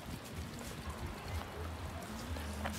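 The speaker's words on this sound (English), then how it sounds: "Found a mountain spring here." Water from a mountain spring on a waterfall hiking trail near Almaty, Kazakhstan, flows and trickles steadily and fairly quietly, a continuous close babble with no talk.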